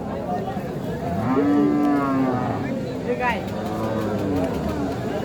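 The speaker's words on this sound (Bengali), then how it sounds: "এগুলো কি গাই গরু?" Cows low at a cattle market before Eid, a couple of drawn-out moos with rising and falling pitch, close and clear, amid background chatter and crowd noise.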